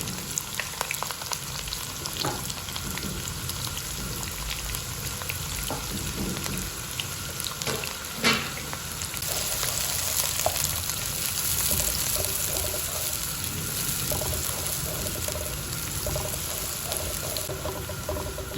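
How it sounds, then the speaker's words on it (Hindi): Sliced onions fry in hot ghee, a steady close sizzle and crackle with occasional stirring scrapes, continuous and fairly quiet, with no voices. "प्याज़ों को अच्छी तरह से सुनहरा ब्राउन करेंगे हम"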